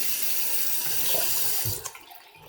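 Water runs from a tap in a steady hiss while fidget toys are washed under it, close and fairly loud, then cuts off near the end leaving a few small drips and clicks.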